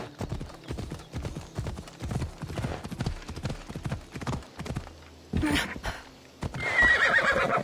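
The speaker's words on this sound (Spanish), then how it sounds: "Y el caballo por arte de magia aparece." A horse in the video game Assassin's Creed Odyssey trots with rhythmic, close clip-clopping hooves, then whinnies loudly near the end.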